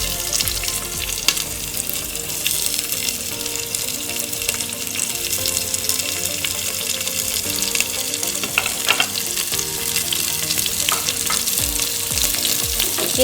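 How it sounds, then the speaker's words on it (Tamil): Small onions fry steadily in a pan for a stingray fish curry, a continuous close sizzle with occasional stirring scrapes and light clinks, no talking. "வெங்காயம் பாருங்கள் நல்லா வதங்கிடுச்சு."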